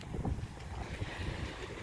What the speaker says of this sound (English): I'll have to talk loud, it is really windy.